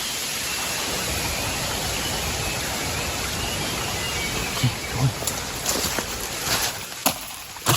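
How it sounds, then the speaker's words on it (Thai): Rain beginning to fall outdoors on a hot, dry day, a steady broadband hiss of light rainfall throughout with a few louder close taps and patters toward the end. "ฝนมันเริ่มตกแล้วเรามาถึงปุ๊บคือฝนมันเริ่มตกเลยนะ"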